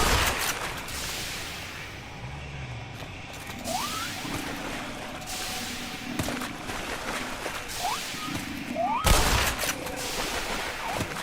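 Aliens running at the player and exploding in a shooter video game, a dense stream of gunfire-like bursts and mechanical clatter with several sharp blasts, continuous and loud throughout with no voice heard.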